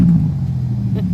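A car exhaust revs roughly and unevenly, as if barely running, giving a low, lumpy rumble that holds at a steady level through a short burst.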